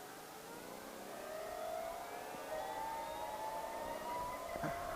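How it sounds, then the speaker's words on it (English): Harley-Davidson LiveWire electric motorcycle motor, a faint rising high whine that sweeps upward steadily like a jet whistle, heard from a distance without speech. "The engine sound is very unique. Definitely almost sounds like the scooter, the little electric scooter that I had at Disneyland, but just beefier."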